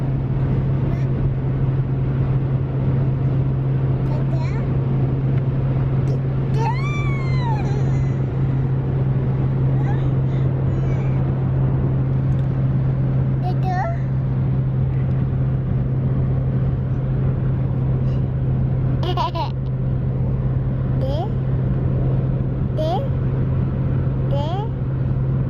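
A car driving on the road home for about two hours, with a steady low engine and road drone running throughout and occasional voices speaking over it.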